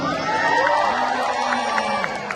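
A crowd at a Chinese New Year fair in a shopping mall cheers and shouts together, a steady wash of voices with excited whoops rising over it, loud and close throughout.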